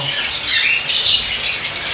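A person whistles an imitation of a bird call, a shrill, warbling squawk held for about two seconds, fairly loud and close, with no talking over it.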